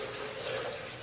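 Water kefir pours through a small strainer into a blender jar, a brief steady splashing trickle at moderate level.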